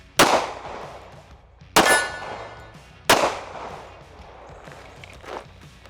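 An FN Herstal FNX-45 pistol fires three loud, sharp shots about a second and a half apart at an outdoor range, each followed by a ringing decay. A faint clank comes afterward.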